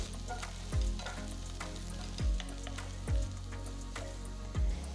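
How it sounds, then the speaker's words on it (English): Beans and sliced carrot sautéing in a pan, a soft steady sizzle with four distinct low thumps of the pan or spoon spaced a second or so apart, fairly quiet and without talk. "Saute for about a minute"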